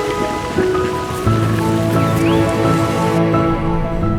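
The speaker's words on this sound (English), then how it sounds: "The hiss of Old Faithful erupting." Old Faithful geyser erupts in a constant, dense hiss of rushing water and steam, unbroken for the whole stretch, with sustained musical tones playing over it.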